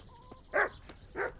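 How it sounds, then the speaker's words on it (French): Two separate barks from a dog in Kingdom Come: Deliverance, spaced about half a second apart, clear and mid-distance against a quiet background. "le chien m'a repéré, il aboie"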